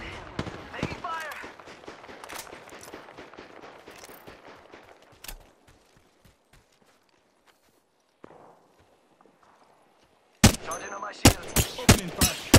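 Gunfire in a shooter video game: a close burst of broadband shots opens, then sparse scattered pops thin out into near quiet, before a loud rapid volley of sharp repeated shots returns at the end, with game voice callouts between.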